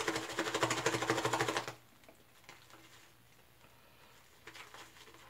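A shaving brush whips up lather in a rapid, close, rhythmic patter for under two seconds, then stops, followed by a quiet room with a few faint taps.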